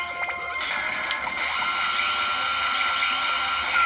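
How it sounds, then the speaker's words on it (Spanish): Whirring, high-pitched drill noise from an evil drill robot in the Astro Boy Omega Factor video game, running steadily and loudly for the whole stretch with a few sharp clanks layered on top. "Cuidado con ese taladro porque es maligno."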